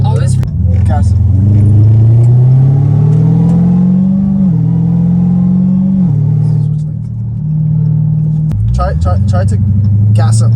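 An 800 hp Dodge Hellcat Redeye accelerating hard, a loud, close engine roar climbing in pitch through several gear shifts, with brief talk at the start and end.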